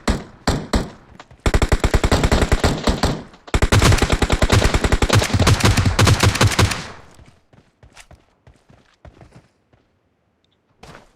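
Rapid automatic gunfire from a multiplayer shooter video game, bursts of repeated shots, loud and close, with scattered single shots and quieter footstep-like taps trailing off at the end.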